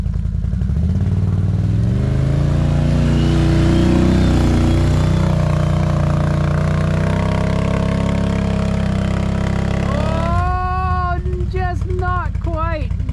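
A Can-Am Renegade 1000 ATV engine roars and revs on a hill climb, loud and close, shifting pitch as the throttle changes, with a person talking over it.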